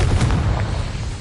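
A Confringo blasting spell cast in Hogwarts Legacy lands as a single short, heavy boom with a rumbling low body. It sounds loud and close, with no voice over it.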